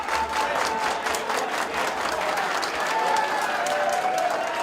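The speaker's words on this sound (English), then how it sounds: "Listen to this crowd." A crowd at a cage fight roars and applauds steadily, a dense wash of clapping and cheering that stays loud throughout, with indistinct voices mixed in.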